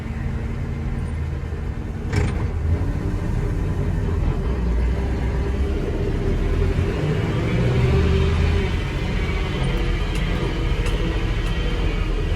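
A Chevy R30 truck engine runs with a steady low rumble, close and constant, with a brief knock near the start and a slight rise in intensity midway.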